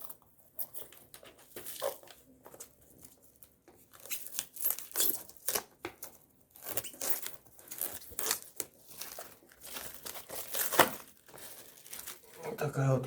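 A bag and a box being opened by hand, with irregular bursts of crinkling plastic and tearing, rustling cardboard, some louder handling near the end.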